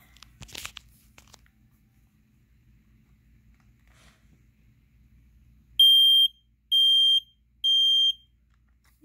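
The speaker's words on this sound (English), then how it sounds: "This one does a fast beep." A handling crackle early on, then quiet, then three loud high-pitched electronic beeps in quick, even succession from a Firex model 120-107b smoke detector's fast-beep test.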